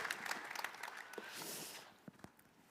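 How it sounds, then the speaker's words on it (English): Applause from an audience, a smattering of claps that swells briefly and then thins out, heard at a distance. "give another round of applause here"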